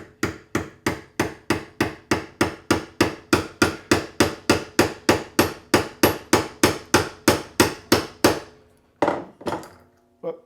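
A broken Ford Mondeo Mk5 flip key is tapped into a new casing with a steady run of about two dozen sharp, close hammer taps at an even rhythm, then a short pause and a couple of final hits.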